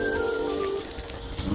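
Water sprayed from a hose to wash dust off solar panels, a continuous close hiss and patter like rain on the panel surface, with a faint tonal whine running underneath.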